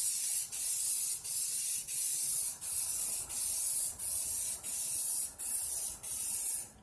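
Spray paint goes in repeated coats over a stencil on a Robotron arcade cabinet: about ten steady hissing bursts, each close to a second long, split by short pauses, loud and near, with no voices.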